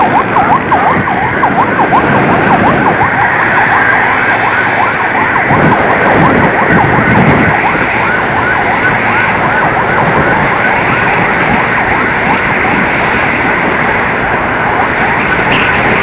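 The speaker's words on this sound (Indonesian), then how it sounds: "Kali ini di jalur cepat ada 2 unit ambulans." Two ambulance sirens wail continuously on an expressway, loud and close, their rising and falling tones overlapping above steady traffic rumble.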